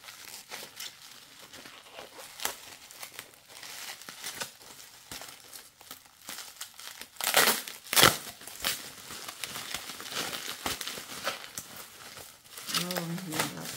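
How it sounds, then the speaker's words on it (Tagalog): Plastic packaging from an online shopping haul is crinkled and torn open, with rustling throughout and a couple of louder crunchy rips in the middle, while someone talks over it. "Ang hirap buksan ng ating marami yung plastic. Yan, buksan na natin."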